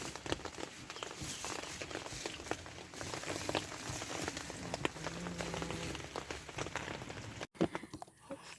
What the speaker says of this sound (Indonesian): Hujan lagi di luar.